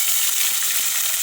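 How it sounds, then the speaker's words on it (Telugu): Thinly sliced medium onions sizzle in hot oil with tempering spices for semiya upma, a steady, close, bright hiss with no voice over it. "ఈ ఆనియన్స్ కూడా గోల్డెన్ బ్రౌన్ కలర్ వరకు ఫ్రై చేసుకోవాలి."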